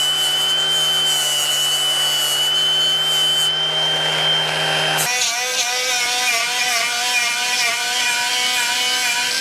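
A grinder putting a bevel on a metal edge for welding during work on a 1953 GMC truck, a loud continuous high-pitched whine whose tone shifts abruptly partway through as the disc bites, close and unbroken.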